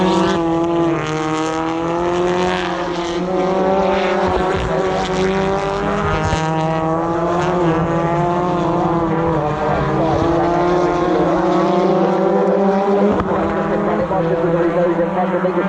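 BTCC touring cars racing at Thruxton, a loud close engine drone with rising and falling tones as cars brake and accelerate through the front chicane, continuous and without pause.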